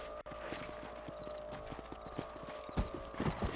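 Horse hooves clip-clop in a steady rhythm in the Western video game Red Dead Redemption, with a single whinny near the start and a run of louder hoofbeats toward the end.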